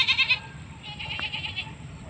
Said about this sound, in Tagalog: Dito na lang ilagay yung mga kambing sa kabila